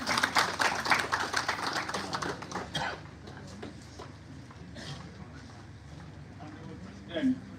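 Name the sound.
audience applause at university event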